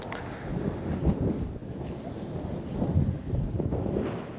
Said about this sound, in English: This wind is just ridiculous.